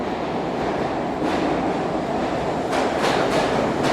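A SEPTA Broad-Ridge Spur subway train rumbles in with a steady roar, followed by a series of rhythmic clacks as wheels pass over rail joints.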